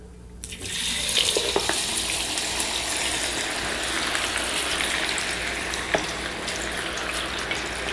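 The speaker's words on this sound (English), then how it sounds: "So while our noodles are boiling, we're going to deep fry our tofu." Chunks of tofu deep fry in very hot oil with a loud, continuous sizzling hiss, broken by an occasional sharper pop, close and steady throughout.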